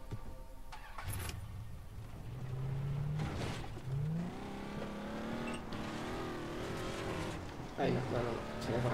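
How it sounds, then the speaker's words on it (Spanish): Car engine driving in the open-world video game Far Cry 3, a steady motor drone that rises and shifts in pitch as the vehicle accelerates, with someone talking over it. "vamos a ir en este carro."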